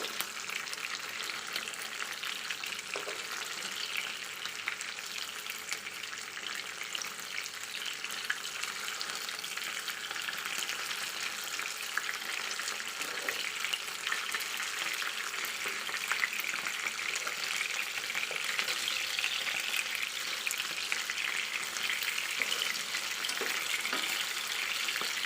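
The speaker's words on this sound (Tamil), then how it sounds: "நம்ம மீடியம் ஃப்ளேமில் வச்சு நம்ம வேக விடுவோம் மீனை" Fish fries in a pan over a medium flame, a steady close hiss and crackle that carries on evenly with occasional small pops and no talking.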